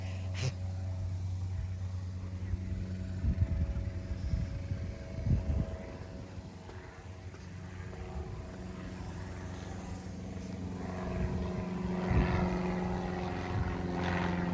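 A propeller plane drones steadily overhead at Mission Espada in Texas, a low sustained hum swelling slightly near the end, with faint outdoor noise and a few light knocks.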